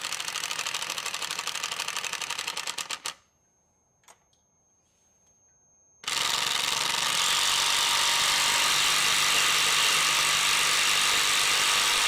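A HART 20-volt power drill with a special bit drives long lag screws at slow speed. A loud, close, steady motor whir runs for about three seconds, cuts to near silence with one faint tick, then starts again and holds steady.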